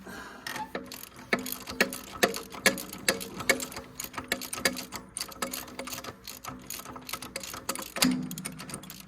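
A socket ratchet works a bolt loose on a Farmall 404 tractor, giving a quick, irregular run of close, sharp clicks and ticks, with a heavier clunk near the end and no voices.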